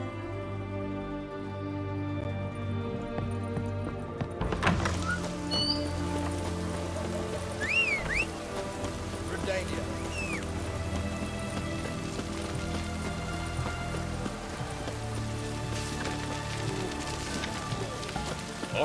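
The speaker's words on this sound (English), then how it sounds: "Looks like rain." Steady rain patters across a surface in the medieval game The Witcher 3, a constant wash under a low ambient drone, with brief character voices and faint hoofbeats passing through.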